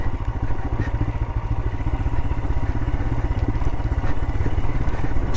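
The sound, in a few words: motorcycle engine braking on steep desert descent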